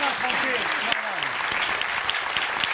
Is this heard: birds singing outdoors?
no